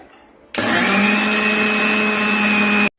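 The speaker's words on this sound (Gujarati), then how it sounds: "તો આપણે મિક્સરમાં ઘરે જ ક્રશ કરી લઈએ ખાંડને, એકદમ ઝીણો પાવડર" A kitchen mixer grinder runs at full speed, crushing sugar into fine powder, a loud steady whine starting abruptly and cutting off after about two seconds, with no talking.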